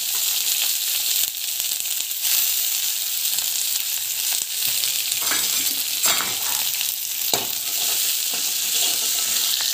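Onion, mustard seeds and cumin frying in hot oil give a loud, steady sizzle with a few brief stirring scrapes and pops, close up and without any talking.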